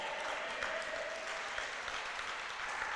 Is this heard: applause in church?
yes